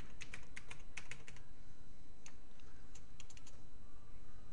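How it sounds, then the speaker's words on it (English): Computer keyboard typing, two quick flurries of crisp key clicks with a short pause between, close and clear over a steady background hum. "so now we type in,"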